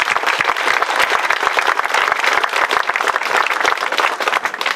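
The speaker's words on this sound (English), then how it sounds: "they all deserve a round of applause from us" Dense, loud crowd applause greets the Valley Bronze Foundry team at the Chief Joseph Monument dedication in Wallowa County. Many hands clap continuously and steadily at close range for the whole stretch.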